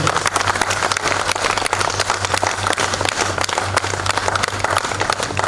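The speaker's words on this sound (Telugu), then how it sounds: "చప్పట్లు జరిగి గట్టి కొట్టాలి అందరూ" Steady applause from an audience at a cake cutting for a couple, dense clapping filling the whole stretch at an even loudness with no voices standing out.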